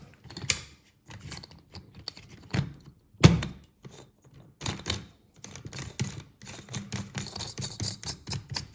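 Folding stock of an ASG Scorpion Evo airsoft gun being worked by hand: scattered plastic clicks and rattles, with one sharp snap as it locks into place, close by and fairly quiet.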